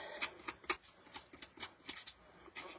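Scissors roughly distressing the paper edges of a mixed media piece on an acrylic panel, heard as quick, irregular snipping and scraping strokes, close and fairly quiet, with no talking.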